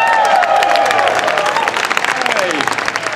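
A science museum audience claps loudly as a live demo show host is introduced, with some cheering and whistle-like tones over the dense clapping, which thins slightly toward the end.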